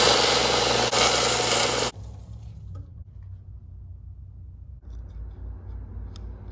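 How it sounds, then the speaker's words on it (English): A belt sander grinds the ends of Harley-Davidson Bad Boy brake caliper pins, a loud steady broadband whir for about two seconds that cuts off abruptly, leaving quieter shop rumble and a low hum afterward. "I'll go ahead and lightly address the end of these pins on the belt sander."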